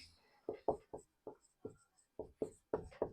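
Chalk or a marker writes on a classroom board in a quick series of short strokes, about a dozen close, crisp scrapes in an uneven rhythm, with faint speech underneath.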